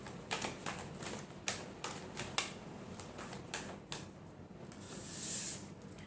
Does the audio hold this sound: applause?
no